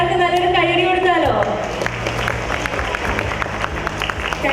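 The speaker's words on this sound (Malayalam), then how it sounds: "നമുക്ക് എല്ലാവർക്കും നല്ലൊരു കയ്യടി കൊടുത്താലോ?" An audience at a prize-giving event at the Kochi Marriott Hotel bursts into sustained applause, taking over after someone finishes speaking and filling the room with dense, steady clapping.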